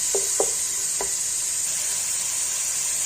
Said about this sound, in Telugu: ఇప్పుడైతే అల్లం పేస్ట్ తెల్లగడ్డ పేస్ట్ వేగిపోయింది